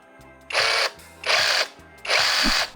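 Procraft PSS20 cordless 20-volt reciprocating saw running in three loud, close bursts of about a third of a second each, its motor whirring with a rough buzzing stroke, separated by short pauses.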